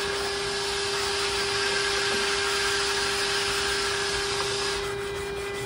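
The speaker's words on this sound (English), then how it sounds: "I'm gonna use this sanding block" Steady, continuous abrasive rubbing as a sanding block works over the wooden stock of a flintlock rifle near the toe, a close, even scratchy hiss held with little change in rhythm throughout.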